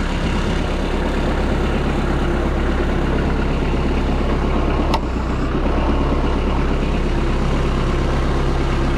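A Kubota B3200 tractor engine idles at low RPM in a steady, even low rumble, close and unbroken for several seconds.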